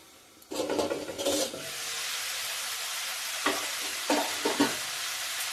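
Softened cabbage leaves fry on high heat in a pan, a steady close sizzle broken by several scraping stirs from a spatula.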